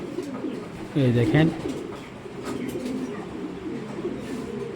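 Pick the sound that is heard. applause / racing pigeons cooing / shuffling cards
racing pigeons cooing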